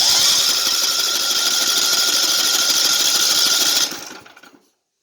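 A riding lawn mower engine cranks and runs in a loud, buzzing, rapidly pulsing drone, close up, then sputters and dies away.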